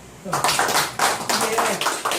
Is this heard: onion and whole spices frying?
no